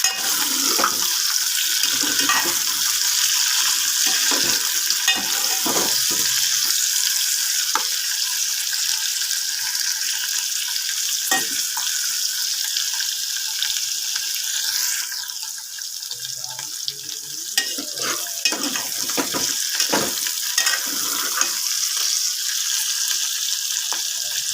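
Fish pieces with onion and green chilli fry in a pan while being stirred, giving a steady, loud sizzle with scattered scraping clicks throughout.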